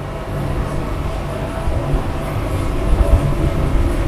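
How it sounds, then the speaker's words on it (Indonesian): Strong wind blows outdoors on an overcast day, a loud, dense low rumble that buffets steadily and gusts heavier toward the end, with no voices. "Mendung banget, anginnya kenceng parah."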